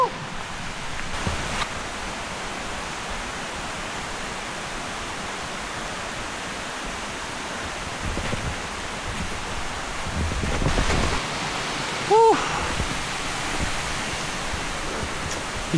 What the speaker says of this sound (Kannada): ಆಗಲಿಂದ ನಮಗೆ ನೀರಿನ ಸೌಂಡ್ ಕೇಳತ್ತಿತ್ತು, ಬಟ್ ನೀರು ಬೀಳೋದು ಭಾಳ ದೂರದಿಂದ ಐತಿ.